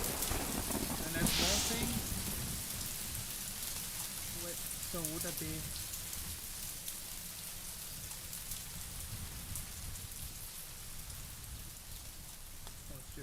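Heavy rain pours steadily, loud and close, with a dense hiss that eases slightly toward the end, while people talk over it.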